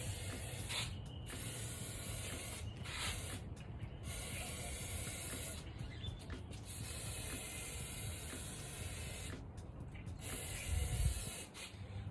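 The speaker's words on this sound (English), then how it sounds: "we're going to spray this one more time" Bursts of aerosol lubricant spray hiss into a 1975 Nova engine cylinder in short repeated blasts, with mechanical clicking and rattling between them and no talking.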